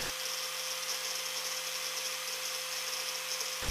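A drill press and an angle grinder run steadily with a high-pitched mechanical whine and a constant hum, the motor noise continuous and unbroken with no talk.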